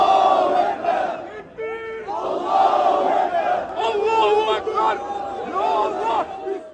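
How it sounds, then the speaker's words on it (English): Angry protesters marching on offices in Istanbul shout together in a dense, loud crowd roar of overlapping voices, with chanting swelling and falling continuously. "hundreds of angry protesters marched on Liman's offices in Istanbul"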